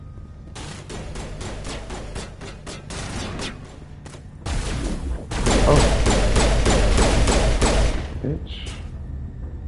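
Pistol shots crack off in rapid strings during a firefight in the game Ninjas in Space, building to a denser, louder barrage. A voice briefly speaks over the shooting.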